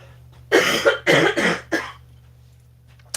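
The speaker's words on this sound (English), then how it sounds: "Just going to have to cough." Four harsh coughs in quick succession, close and loud, followed by a faint brief sound and quiet.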